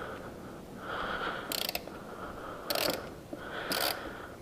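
A ratchet wrench tightens a shifter bolt on a motorcycle during a GP shift conversion, giving three short bursts of rapid clicking spaced about a second apart, close and moderately loud, with no talk over them.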